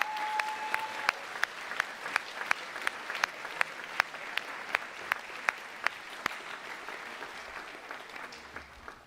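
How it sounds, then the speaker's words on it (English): At an eighth-grade moving-up ceremony in a school auditorium, the audience claps for the teachers, a soft, steady patter of applause from a crowd, punctuated by a few sharp, louder individual claps standing out at a regular pace. "So a big round of applause for them"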